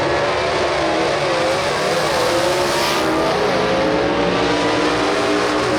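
Southeast Gassers drag cars roar off the line at Huntsville Dragway, a loud, dense engine blast sweeping past with rising pitch and possible tire chirp, over a few seconds and with no voices.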